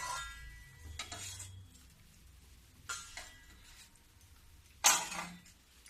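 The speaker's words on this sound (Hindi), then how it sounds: "एक चम्मच से रस लेके इस पर डालूंगी" Sugar syrup spooned over chandrakala sweets: a few soft clinks of a spoon against a pan or dish, with light liquid drips, then one sharper clink near the end, all fairly quiet with no talking.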